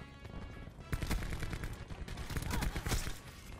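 Bursts of rapid KN-57 assault rifle fire from the Black Ops 4 game on a firing range, loud close sharp cracks in quick automatic strings with brief pauses between volleys.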